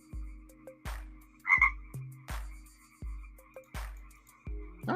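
A bog frog croaks steadily, about eight low, throaty pulses in a loose, regular rhythm, one brief chirpy call mixed in, all close and clear against still, murky-water ambience with no speech.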